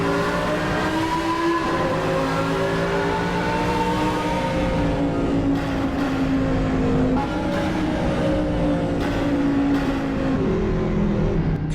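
A car accelerates hard through a tunnel, its engine note climbing and droning steadily with strong reverberant echo, loud and continuous with no talking.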